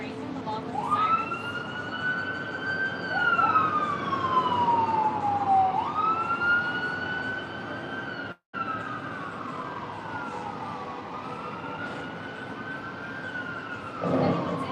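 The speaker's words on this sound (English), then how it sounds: "You hear people screaming along with the sirens?" Police and emergency sirens on the Las Vegas Strip near the Cosmopolitan wail in overlapping rising and falling sweeps, moderately loud over steady street noise, with a short break partway through.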